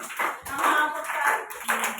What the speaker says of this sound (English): clapping clapping clapping